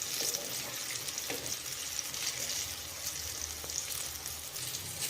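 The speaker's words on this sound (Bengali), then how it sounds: "বেগুনগুলো বেশ লাল লাল করে ভেজে নেব।" Eggplant pieces fry in hot oil with a steady, close, moderate sizzle and faint crackles throughout, with no speech.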